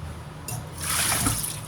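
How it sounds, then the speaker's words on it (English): Water pours into a bowl to soak bitter melon slices, a short splashing, trickling rush that starts halfway through and quickly grows louder over a low background hum. "I get a bowl and I soak them in water"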